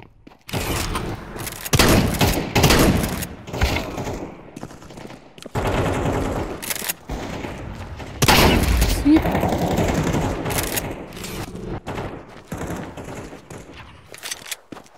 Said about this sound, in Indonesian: Lagi enak-enak nembak nih.